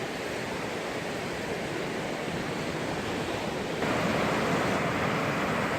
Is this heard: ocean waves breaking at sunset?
yes